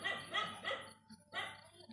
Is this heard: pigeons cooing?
no